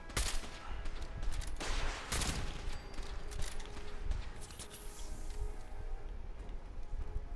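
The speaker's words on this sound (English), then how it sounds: "You're getting shot there, David." Distant, fairly quiet gunfire in the video game Fallout 4, with several sharp shots and short bursts scattered over a steady background of battle noise.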